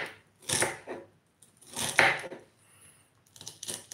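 A knife chops vegetables on a cutting board in a few separate bursts of quick knocks, close and fairly loud, with short quiet gaps between them.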